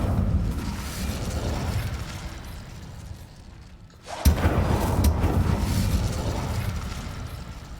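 Incendio fire spell in a Harry Potter video game: a steady roaring, crackling rush of flame that dips briefly, then erupts with a sharp burst and keeps blazing loudly.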